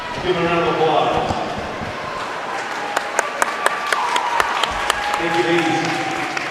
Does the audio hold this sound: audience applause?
yes